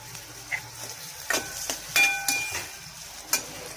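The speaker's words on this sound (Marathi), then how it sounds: "मी टोमॅटो घातलाय, त्याला पण चांगला तेलात फ्राय करून घ्यायचा" Chopped tomato frying in hot oil for a Goan prawn dish, a steady sizzle with a few stirring scrapes of a spoon against the pan, close and alone.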